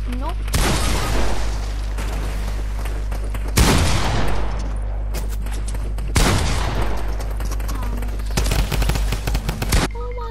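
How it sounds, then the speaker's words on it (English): Lever-action rifle fire in the Fortnite video game comes as loud, close bursts of sharp shots with booming tails, in several volleys over a steady background drone, while a person talks over it. "This is a lever action rifle."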